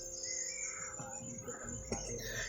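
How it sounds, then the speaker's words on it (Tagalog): Harsh crow calls ring out repeatedly over a steady outdoor background, with a sharp burst near the end. "Yung mga uwak na yun"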